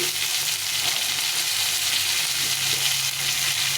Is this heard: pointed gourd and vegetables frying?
yes